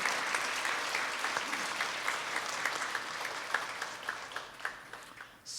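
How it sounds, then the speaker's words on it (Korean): A Sunday church congregation breaks into sustained applause, with dense clapping that swells and then thins into a few louder individual claps near the end. "우리 하나님께 큰 영광의 박수 올려드립니다"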